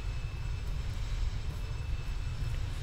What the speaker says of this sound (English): Let's get the reverse thrust out. And just get those engines to go full power.